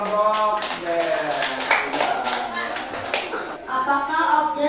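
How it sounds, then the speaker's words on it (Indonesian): Students clapping for a group at a junior high school informatics session, a short burst of applause from a classroom crowd with voices talking over it, fading as speech resumes. "Tepuk tangan buat kelompok."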